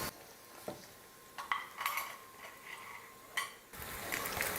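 Sweet appams being turned in a kuzhi paniyaram pan, quiet metallic clicks and scrapes of a utensil against the pan at irregular intervals over a faint low sizzle, ending in a louder burst of frying.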